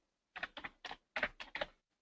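Keys being pressed on a computer keyboard, six quiet, separate clacks in an irregular typing rhythm, heard alone in a silent room.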